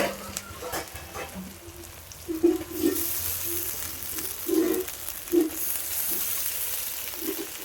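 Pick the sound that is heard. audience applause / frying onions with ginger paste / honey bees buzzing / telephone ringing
frying onions with ginger paste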